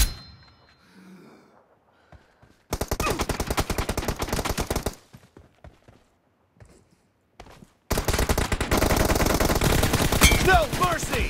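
Rapid machine gun fire in a video game roars in two long, loud, continuous bursts, separated by a quieter gap with faint thumps and shuffling.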